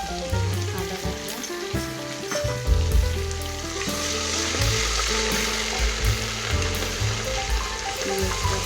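Garlic and ginger paste fries with browned onions for biryani, making a loud, steady sizzle and bubbling under prominent background music.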